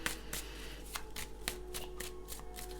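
Tarot cards being shuffled by hand during a card reading, a steady run of crisp riffling bursts repeating roughly every half second, close and clear with no talking.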